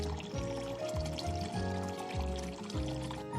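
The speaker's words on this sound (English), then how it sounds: "Sparkling water will now be dispensed." Sparkling water dispensing from a Zip HydroTap Arc Cube tap makes a steady pouring, gurgling stream with bubbling fizz, continuous and moderately quiet throughout.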